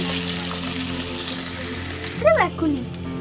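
Onions frying in oil in a pan while being browned for a home-style chicken curry, heard as a steady close sizzle, with a brief tonal squeak or voice-like sound near the end.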